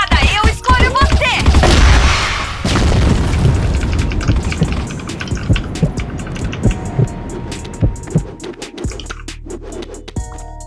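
A grenade blast in the online shooter CrossFire on the Satellite map: a loud booming burst opens, followed by a rumbling tail, scattered gunfire cracks and in-game clatter that gradually thins out, with no speech.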